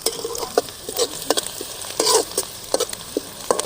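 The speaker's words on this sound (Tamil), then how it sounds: "நல்லா வெங்காயத்தை வக்கிட்டு" Onions frying in a pan during village-style preparation of a boiled egg curry, stirred with repeated scraping strokes over a steady sizzle, the close, crisp stirring sounds recurring at a quick, uneven rhythm with no voices.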